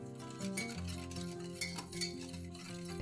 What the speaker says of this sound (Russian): Опять перемешиваем.